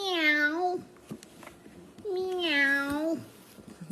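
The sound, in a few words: voice imitating a cat meowing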